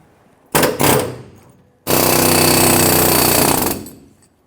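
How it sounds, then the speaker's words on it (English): An air chisel hammers at welded studs on a leaf spring bracket, first in two short bursts, then in one sustained loud rattling run of about two seconds, close by with no talk. "I'm going to use my air chisel and work on the back side here"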